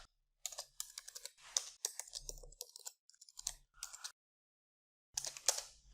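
Rapid bursts of clicky keystrokes on a computer keyboard, close and crisp, coming in quick runs separated by short pauses and a longer silent gap before a final flurry.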